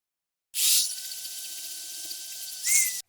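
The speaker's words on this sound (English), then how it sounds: "Right, finish off with a bigger drill." A bigger drill bit bores into the die-cast metal body of a Dinky Toys 407 Ford Transit Mk1 van, a steady high whine starting abruptly with a bright bite at the start and another burst near the end, then stopping, close and alone.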